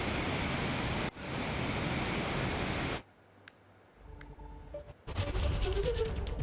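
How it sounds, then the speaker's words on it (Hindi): Floodwater roars through the opened gates of the brimming Modak Sagar dam during heavy Maharashtra rains, a loud, steady wash that cuts out midway, leaving quieter scattered sounds, before the rushing surges back. "उफनाया हुआ था पानी, और इस पानी को देखते हुए डैम के गेट को खोल दिया गया है।"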